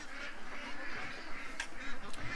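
Several ducks quack continuously and fairly close by in a yard, their nasal calls overlapping in an uneven chatter.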